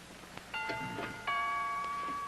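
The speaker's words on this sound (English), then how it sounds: "Harriet, would you mind answering the doorbell, please?" A two-tone doorbell chimes twice in a home, each ring a clear ding-dong with a lingering ring-out, with faint room noise underneath.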